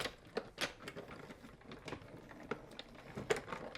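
A die-cutting machine cranks back and forth through card with a glitter layer, giving faint clicking, rattling passes with sharp ticks at irregular intervals.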